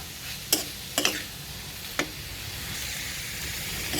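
Bitter gourd (ampalaya) frying in a pan, with a steady low sizzle and a few sharp clinks of a utensil against the pan, close by, with no talking.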